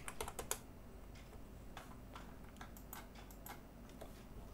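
Quiet clicking of a computer keyboard as a command is typed, a quick cluster of keystrokes followed by sparser, lighter taps over a faint steady background hum.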